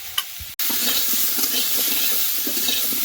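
Raw banana pieces sauté in a pan with green chili, salt and turmeric for a Bengali curry, giving a steady close sizzle with scraping stir strokes after a brief knock.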